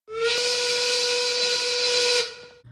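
A loud 1930s-style steam work whistle blows one long, steady shrill blast with a hissing edge, then cuts off abruptly.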